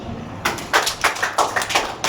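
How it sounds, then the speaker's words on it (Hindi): Scattered clapping from a gathering at a Navratri festival event, a handful of uneven, close claps and taps that start after a short quiet stretch and keep a loose rhythm. "ताली बजाओ।"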